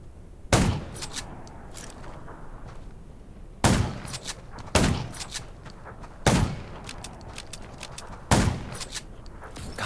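Gunfire in the zombie survival game Undawn: five sharp, loud shots spaced a second or two apart, each with a ringing tail, over a steady low background rumble.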